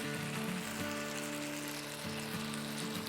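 Chicken and potatoes sizzle steadily in a pan over a medium flame for an aloo chicken salan, a dense continuous crackle with a faint low hum underneath and no talking.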